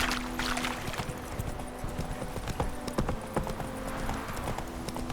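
Roach, a horse in The Witcher 3 video game, gallops with rapid rhythmic hoofbeats over a continuous outdoor ambience, clear and up close.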